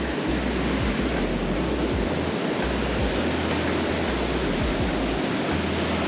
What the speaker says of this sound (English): Not much of a drop in terms of falls, but it is one of the highest volume falls in Maine.